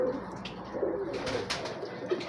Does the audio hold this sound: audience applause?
no